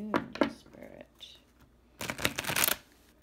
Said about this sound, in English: Okay. Last shuffle, guys.